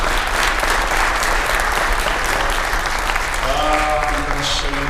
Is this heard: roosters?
no